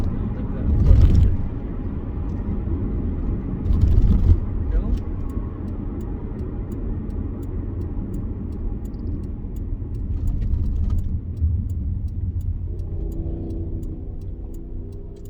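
A 2003 Honda CR-V EX AWD on the move, its steady low engine and road rumble running throughout with a couple of brief louder swells, under talk from inside the cabin.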